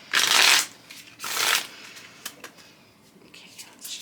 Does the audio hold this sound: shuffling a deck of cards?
yes